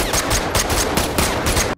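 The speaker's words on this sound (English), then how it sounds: "Tyler manages to defeat Zurb and kills him with one final shot" Rapid gunfire in a movie duel, a dense burst of about eight loud shots in quick rhythm, close and punchy, with no talking over it.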